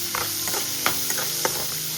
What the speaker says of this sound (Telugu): కట్ చేసుకొని ఇవైతే బాగా వేయించుకోవాలి.